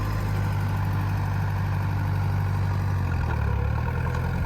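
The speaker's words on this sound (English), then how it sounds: "So we're going to switch over to the John Deere 2010." A John Deere 2010 tractor with power steering running steadily, a low, even engine drone held at constant revs close by, with no one talking.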